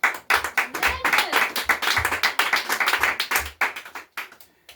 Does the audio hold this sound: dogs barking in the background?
no